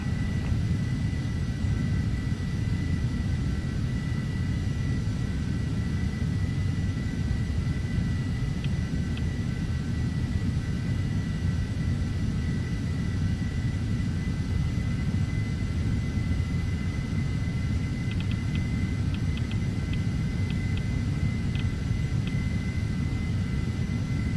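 Airliner engines drone steadily through a climb in Flight Simulator X, a continuous broad low rumble with a faint high whine and a few soft clicks, no voices.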